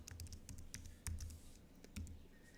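Keys on a computer keyboard tapped out in short irregular bursts, close and fairly quiet, with a few sharper, heavier strokes standing out amid light clicking.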